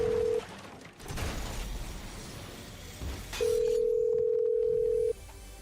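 A steady telephone line tone plays during a prank phone call. It sounds briefly at the start, gives way to clattering noise, then returns loud and unbroken for nearly two seconds before cutting off.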